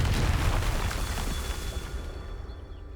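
A Confringo blasting spell goes off in Hogwarts Legacy, a loud booming explosion that hits at once and rumbles low, slowly fading over a few seconds with no talk.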